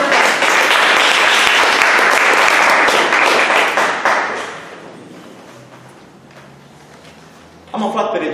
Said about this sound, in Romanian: În aplauze!